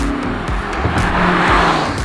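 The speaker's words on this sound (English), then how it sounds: "People have been begging me to rev this car" An Audi R8 Spyder supercar revs loudly and close by, its engine note rising and falling in quick surges with a sharp, raspy edge, no voices heard.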